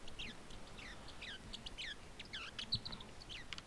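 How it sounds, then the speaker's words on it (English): Faint pet bird chirping in quick bursts of short, high tweets and trills over a low background hum, with no voices. "So I guess you'll have to hear him chirp for a little bit."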